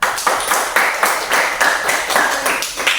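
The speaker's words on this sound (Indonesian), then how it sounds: "Kasih tepuk tangan." Classroom audience of students clapping in a school teaching-practice session, a steady dense patter of many hands going on throughout at close range, with occasional louder bursts of claps.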